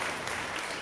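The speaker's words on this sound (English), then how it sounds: "Oh, you have to give him a clap." A brief burst of dense clapping from a conference audience in Kathmandu, loud and continuous for under a second.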